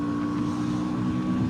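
A 2025 KTM Duke 160 motorcycle engine pulls hard during a ride, a loud steady drone with wind rush across the microphone over the entire short stretch.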